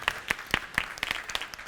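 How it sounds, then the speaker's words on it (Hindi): Studio audience on a Pakistani grocery game show applauds team John, a run of sharp, uneven claps of moderate loudness, sparse at first and thickening toward the end, with no speech over it. "तालियां बजाएं जी जॉन के लिए"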